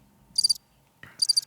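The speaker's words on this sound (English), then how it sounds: "Don't you put anything but crickets." Cricket chirping played as a comic gag after a bad joke: two short, bright trilling bursts separated by a pause, loud and clear with no talk over them.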